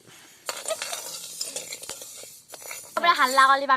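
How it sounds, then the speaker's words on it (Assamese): Soaked, washed rice is roasted in a pan over a hot charcoal fire with scraping strokes and light rattling of grains against metal; a voice briefly joins near the end. "উখোৱা চাউলখিনি ভালকৈ ধোৱা চাউলখিনি ভাজি আছে"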